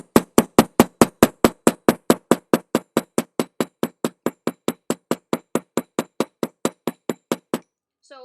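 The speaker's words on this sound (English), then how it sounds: "Just watch your fingers so you don't get your fingers with the hammer." Rapid, regular hammer blows ring out sharply as a piece of jewelry metal is flattened, dozens of close, bright clinking strikes that ease slightly in force before stopping, followed by a brief voice.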